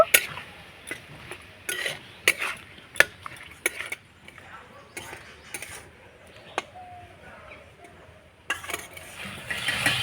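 A spatula stirs grated coconut, jaggery and a splash of water in a wok to make a pitha filling, giving scattered scrapes and sharp clinks against the metal at close range over a quiet background.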